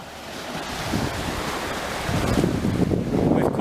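Waves wash against a seaside pier, a rushing surf swell that grows louder toward the end, mixed with gusty wind buffeting the microphone.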